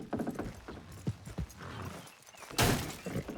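Horses hauling a wagon in Red Dead Redemption 2: close, clear hoofbeats clopping in an irregular rhythm, a horse whinnying, and a sudden loud burst of noise near the end.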